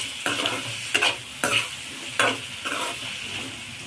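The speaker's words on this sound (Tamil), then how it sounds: "கத்திரிக்காய் உருளைக்கிழங்குல அரிஞ்சு வச்சுருக்கோம், அது சேர்த்துக்கலாம். நல்லா வதக்கி விட்டுக்கோங்க." Chopped brinjal and potato are stirred and sautéed in a hot pan. Several distinct scraping strokes of a spatula run over a soft, continuous sizzle, close by, with no talking.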